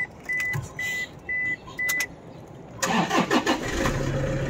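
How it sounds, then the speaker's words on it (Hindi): A Toyota Innova is started after a series of short warning chimes: the starter cranks and the engine catches, then settles into a steady near idle. "अभी चालू करते हैं इस गाड़ी को"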